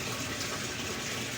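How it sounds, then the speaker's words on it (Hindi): A GE washing machine drum filling with water, a steady gushing rush of water pouring in continuously with no pauses. "ये आप देख सकते हैं कि फिलिंग स्टार्ट हो रही है"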